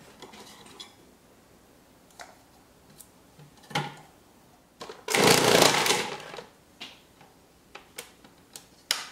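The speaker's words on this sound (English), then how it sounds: "I'm dropping in there one at a time and doing quick pulses" A food processor with a slicing disc pulses through vegetables: one loud whirring burst of about a second stands out among scattered clicks and light clatter of pieces dropping in, close up and fairly quiet otherwise.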